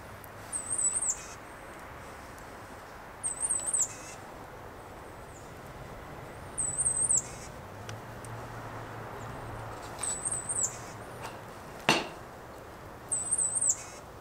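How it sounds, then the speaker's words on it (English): A little bird sings outdoors in short, high chirping bursts repeated every few seconds, fairly faint over steady background noise and a brief clunk, with no talking. "Hear a little bird singing."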